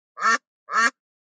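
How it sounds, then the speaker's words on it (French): A duck gives two short, clear quacks, close and isolated, evenly spaced with silence after. "Le canard."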